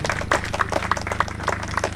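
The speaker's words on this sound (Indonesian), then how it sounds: "Tepuk tangan dari Pak Rohim." Audience at a coffee festival gathering clapping together in quick, fairly even bursts, a moderate round of applause heard alone over a low steady hum.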